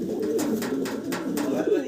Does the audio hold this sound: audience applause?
no